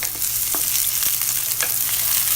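Shallots, onions and green chillies sautéing in a pan for peas and cauliflower fried rice, a loud continuous sizzle broken by light stirring scrapes.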